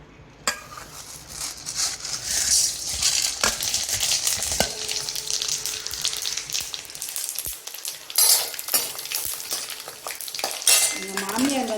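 Pepper, cumin and fennel seeds crackle and sizzle in hot oil while a spoon stirs and scrapes against the pan, with occasional clinks of metal utensils.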